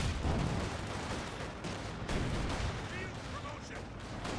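A grenade in Company of Heroes 2 bursts with a few punchy thuds amid a busy wartime soundscape of scattered gunfire, while a voice speaks over the action.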